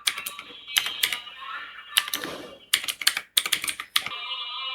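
Rapid bursts of keystrokes on a computer keyboard as a search is typed into a Windows PC, clicking in quick clusters separated by short pauses, close and alone with no talking.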